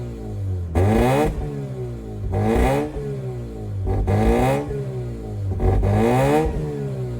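A 2004 Mazda RX-8 rotary engine struggling to idle, its revs surging in four repeated bursts before sagging back to a rough, uneven low idle.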